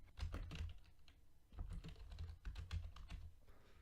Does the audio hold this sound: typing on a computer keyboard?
yes